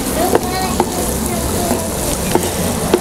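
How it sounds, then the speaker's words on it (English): Bacon browns in a pan for a kid-friendly pasta dish, a loud continuous close sizzle and crackle with a few soft utensil taps, and a voice talks faintly over it. "So our bacon has started to brown up and it smells so good."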